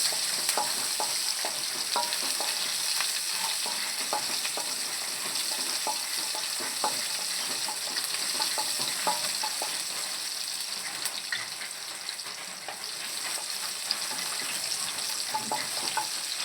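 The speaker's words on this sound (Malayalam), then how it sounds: "ഇതിലേക്ക് കറിവേപ്പില ചേർത്ത് കൊടുക്കുന്നുണ്ട്. ചെറുള്ളിയും ചേർത്ത് കൊടുക്കാം. നന്നായിട്ടൊന്ന് ഇളക്കി കൊടുക്കാം." Dried red chillies, curry leaves and shallots sizzle in hot oil for a soya fry while being stirred, a steady close crackling hiss with scattered pops and occasional scraping of the stirring spoon.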